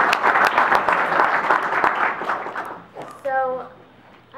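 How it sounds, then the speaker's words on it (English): An audience gives forum organizers a round of applause, dense clapping that fades out over the first three seconds, after which a voice speaks alone against a quiet room. "I just really want to give them a round of applause"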